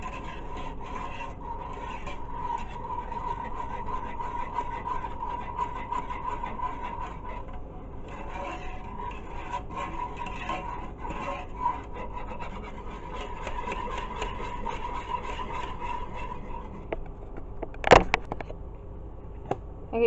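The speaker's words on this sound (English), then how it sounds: "And then it says to whisk it until it's combined." Whisk stirring sugar into milk for a no-bake dessert, a continuous soft rhythmic scraping and swishing at close range, broken by one sharp clink near the end.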